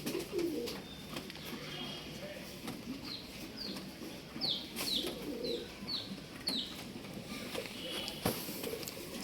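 Domestic pigeons kept for sale in RT Nagar, Bangalore, coo repeatedly in soft low throbbing calls, with sparrow-like chirps and faint background noise around them and no talking.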